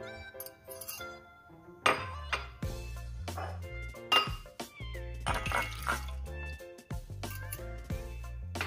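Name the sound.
water being mixed into beaten eggs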